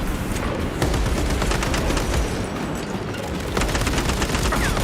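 Loud, dense automatic gunfire in the action game Space Marine 2 during a reactor mission, rapid unbroken bursts of shots stacking into a continuous barrage.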